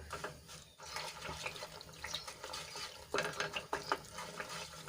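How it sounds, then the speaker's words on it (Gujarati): Jaggery melting in a pan for churma ladoo is stirred steadily, giving a continuous wet scraping and swishing with a few sharper clinks of the spoon against the pan near the end. "હવે આ રીતે આપણે હલાવતા રહીશું અને ગોળને સરસ રીતે ઓગાળી લઈશું"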